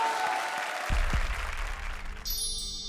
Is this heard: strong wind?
no